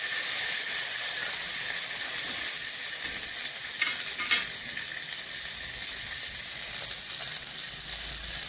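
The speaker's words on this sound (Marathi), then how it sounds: "वाटाणे छान परतून घ्यायचे आपल्याला, असे भाजून घ्यायचे चांगले" Fresh green peas roasting in a hot pan, giving a dense, loud, continuous sizzle and hiss with occasional faint stirring scrapes, with no voices.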